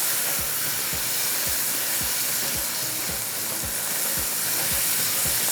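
Masala with ginger and green chilies fries in a pan for a karahi dish, giving a loud, steady sizzle and hiss with regular soft stirring scrapes repeating about every half second, and no voices.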